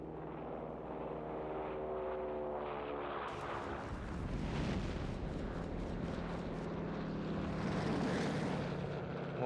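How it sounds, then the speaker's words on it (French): In Company of Heroes 3, a bomber aircraft roars in to strike anti-aircraft defenses in the Italian campaign, droning engines swelling under a rumble of heavy explosions and gunfire that builds toward the end. "Le bombardier, tiens, on va le faire venir détruire"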